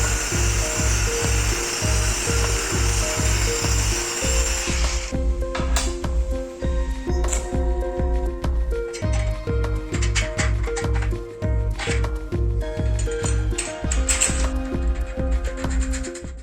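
A metal part for a homemade sheet metal bender is cut with a power tool, heard as a rapid train of harsh rhythmic strokes with a loud whine at first, then continuing choppy grinding and clattering.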